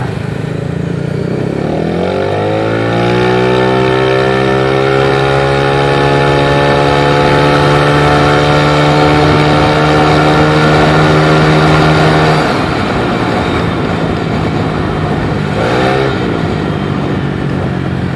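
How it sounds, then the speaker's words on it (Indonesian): Yamaha Lexi 155cc race-prepared scooter accelerating hard along a straight road with its filter cover and CVT cover removed, engine pitch climbing steadily and loud, then easing off with a brief second rev near the end. "Gila nih, kencang juga nih motor."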